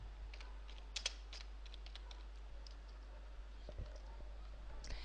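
Fingers type on a computer keyboard in scattered bursts of crisp clicks, close and fairly quiet, with a steady low hum underneath and no talking.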